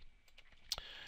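Keys tap on a computer keyboard in a quiet room, a handful of light clicks spread unevenly across the moment with one sharper keystroke near the middle.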